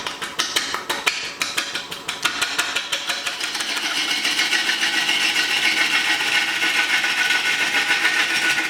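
A gouge cuts a heavy, wobbling redwood bowl blank on a wood lathe, first as a rapid rhythmic knocking of interrupted cuts, then settling into a steady, loud continuous shearing hiss at close range.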